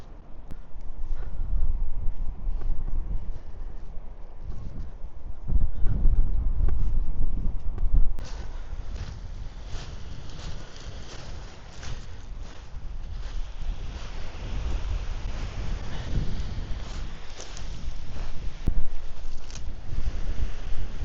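Steady wind buffets the microphone in a continuous low roar, with gusts rising and falling throughout and a faint wash of water beneath.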